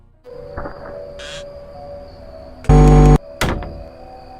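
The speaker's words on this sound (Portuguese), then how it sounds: "E da mesma forma que fez com Bonnie, o jogador fecha a porta automaticamente" A door in the horror video game Five Nights at Freddy's slams shut, a loud mechanical thud with a ringing metallic burst, then a second sharp clank, over a low electrical hum and faint clicks.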